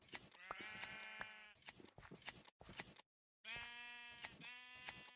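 Sheep in a video game bleat repeatedly and loudly, overlapping one another with sharp clicks, broken by a brief gap of silence before the bleating resumes.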